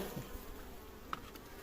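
Honeybees buzzing around an open beehive during queen rearing, a steady soft drone close by with no talk, one brief louder flick near the middle.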